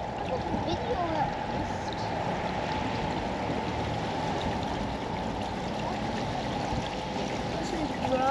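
Water flows and rushes steadily nearby, a continuous churning wash that holds at the same level throughout.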